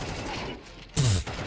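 A short, loud burst of gunfire in the video game Counter-Strike: Global Offensive rings out after a quieter stretch of game ambience.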